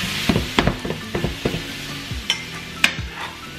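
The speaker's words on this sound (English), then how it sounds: "we're gonna go with this chili mix and the marinade over all of your tofu" Crisped tofu tossed in a pan with a chili mix and marinade, a gentle sizzle under repeated scraping and clacking of a utensil stirring, close and irregular, no voices.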